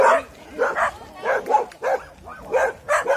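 Several dogs barking and yipping in short, repeated bursts, fairly close, with a few whimpers between barks.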